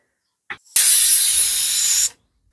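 A pressure cooker with meat curry lets off steam in a loud, steady hiss lasting over a second, preceded by a brief short burst, with silence on either side.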